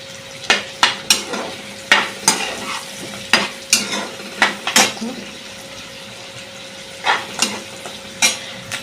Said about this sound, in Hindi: यहाँ पे दूसरे गैस पे हमारा खाना बन रहा है